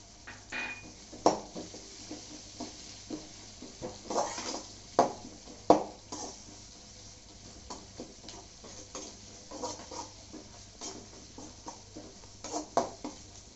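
Onions and ginger fry in a pan as a utensil stirs and scrapes, producing irregular clinks and scraping bursts over a faint sizzle, close and moderately loud with no voices.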